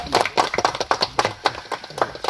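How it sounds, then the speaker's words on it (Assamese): An audience claps at an outdoor opening ceremony for a waterfall site, a dense patter of many hands in irregular bursts, moderately loud and close. "হাত চাপৰি দিয়ক"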